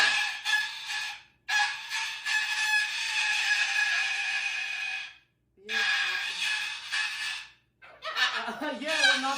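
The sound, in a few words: cockatoo yelling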